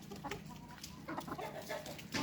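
Country chickens cluck softly in short, scattered bursts, fairly faint against a quiet background.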